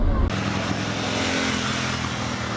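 A Yamaha Tenere 700 motorcycle pulling hard under acceleration, a steady engine drone mixed with wind rush after a brief louder burst at the start, with a rider's voice partly over it.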